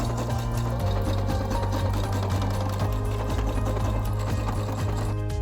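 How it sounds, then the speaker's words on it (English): A regular sewing machine stitches the side seams of a baby bodysuit, running at a steady, fast mechanical rhythm that continues without a break throughout, close and alone with no talking. "We sew the side seams like this with a regular sewing machine and a false overlock seam."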